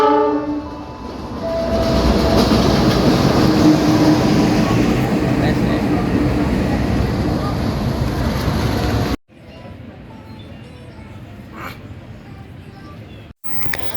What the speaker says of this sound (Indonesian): Selain KRL ada juga nih lokomotif CC206.